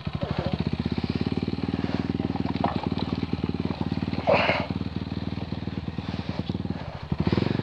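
Motorcycle climbing a steep, rough uphill trail in first gear, its engine thumping in rapid, close, loud low-rev pulses that swell and dip as it labours on.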